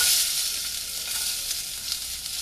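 Garlic and onion sautéing in a pan for spinach sambar, a steady bright sizzle with soft stirring scrapes, close and continuous, no voices.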